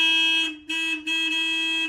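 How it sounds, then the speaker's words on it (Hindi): Horn of a Maruti Gypsy sounding after repair, three loud close honks of a steady buzzing tone, the first two short and the last held longer, no talk. "हॉर्न हमारा चला दिया है, बड़ी दिक्कत हो रही थी हॉर्न के बिना।"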